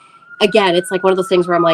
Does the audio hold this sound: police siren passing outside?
yes